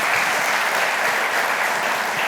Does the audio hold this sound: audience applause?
yes